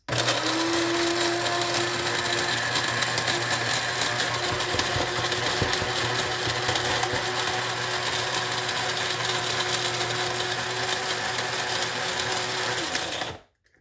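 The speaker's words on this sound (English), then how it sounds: "it's going to be a little noisy, but we're just going to grind it till it's super fine" A loud, continuous electric grinder whirs at high speed, grinding dehydrated celery, for over ten seconds before cutting off abruptly.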